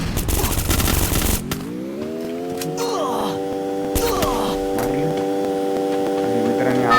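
Automatic gunfire from the battle-royale video game Free Fire crackles in a dense burst, then a steady tonal game hum takes over with sporadic sharp shots punctuating it, loud and close throughout.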